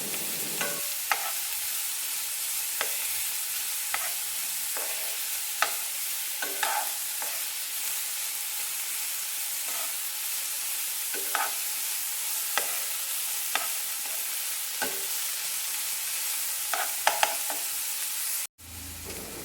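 Mustard seeds and chopped onion fry in hot oil in a pan while being stirred for egg fried rice, a steady close sizzle broken by regular sharp scrapes and clicks of the spoon, with no talking.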